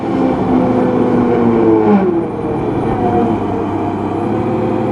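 A TimberKing hot saw runs outdoors with a loud, steady mechanical roar and engine drone that holds nearly constant throughout, with a brief swell partway through and no talking.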